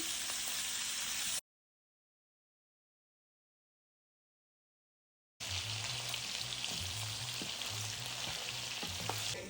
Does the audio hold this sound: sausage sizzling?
yes